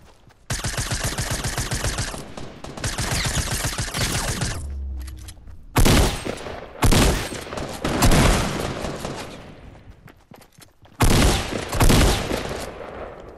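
Pump shotgun gunfire and rapid weapon fire in a video game battle, several loud sustained bursts separated by sharp single blasts and brief gaps, close and alone without talk.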